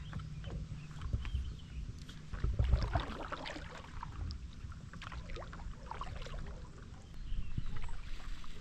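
A canoe or kayak paddles across a quiet lake at night, soft water splashes and paddle strokes repeating faintly amid gentle outdoor ambience, with a louder dip around the middle.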